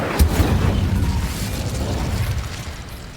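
A fire spell cast in Hogwarts Legacy produces a low, rumbling magical burst, a sharp thump followed by a sustained roaring whoosh that fades slowly over a few seconds, with no talking.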